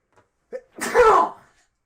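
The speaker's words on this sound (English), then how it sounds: "I have to sneeze" A single person sneezes close up: a short breathy intake and then one loud, explosive sneeze that trails off into quiet, with no talk.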